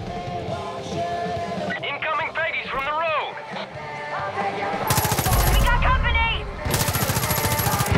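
Machine-gun fire in the shooter Far Cry 5: two loud sustained automatic bursts cut through a dense mix of game sound and chatter, the second following shortly after the first.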